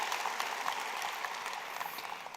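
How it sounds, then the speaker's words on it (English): A convocation audience in the Durham Greater Toronto Area gives a warm round of applause, a dense, even wash of clapping from a large crowd heard at a distance. "can I have an especially warm round of applause for Deborah?"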